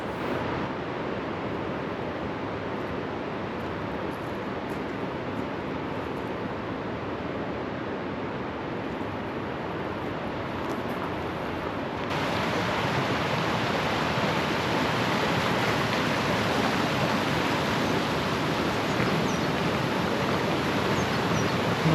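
Roški Slap waterfall pours over a travertine barrier in Krka National Park, a continuous dense roar of falling water that grows louder partway through as the listener moves closer.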